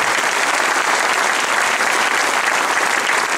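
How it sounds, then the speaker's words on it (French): Loud, dense applause from a large crowd of supporters at a political campaign speech, a continuous roar of clapping that stays even and strong from start to finish. "Je vous demande de les applaudir très fort"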